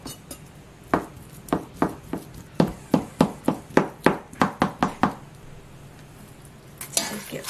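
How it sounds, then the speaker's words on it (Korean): A knife chops cabbage and ham finely on a cutting board, a steady run of about fifteen sharp, close knocks at an even rhythm, then a pause and a brief clatter at the end. "여기 양배추, 햄을 잘게 썰어 넣겠습니다."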